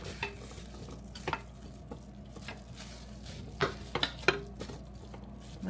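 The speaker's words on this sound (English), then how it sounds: "Let's give this a little toss in the juice" Vegetables being tossed in juice in a pan, with soft sizzling and irregular clinks and scrapes of utensil against the pan, close and alone.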